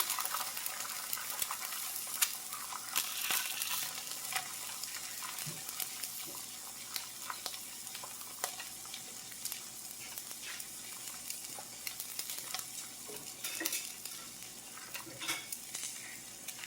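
An egg fries on medium heat in a new Lancaster #8 cast iron skillet, giving a steady, soft crackling sizzle with scattered pops and faint scraping, heard alone without talk.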